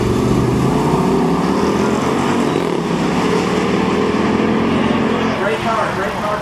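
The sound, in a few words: SRT car accelerating hard down the drag strip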